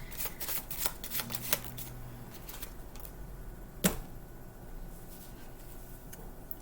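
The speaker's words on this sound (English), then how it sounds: "Let me get another card." Tarot cards shuffled by hand in a quiet room, a run of crisp riffling and flicking bursts followed by a single sharp snap, fairly close and with no voices.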